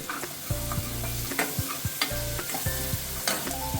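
Pav bhaji bhaji mixture with butter and chopped coriander sizzling as it is stirred in a pan, with repeated scraping strokes over a steady fry and no talk.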